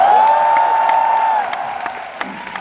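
An audience applauds at a live Cantopop concert at Hong Kong's Macpherson Stadium in a dense, fairly loud wash of clapping and crowd noise, with a sustained whistle-like tone at the start, easing slightly toward the end.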